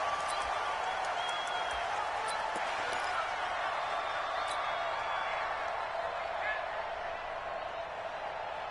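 Stadium crowd roaring steadily through a Tennessee Titans versus Miami Dolphins NFL video game, a dense continuous cheer that fades slightly toward the end.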